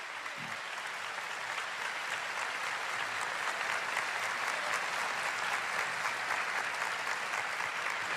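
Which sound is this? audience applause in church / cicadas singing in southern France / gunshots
audience applause in church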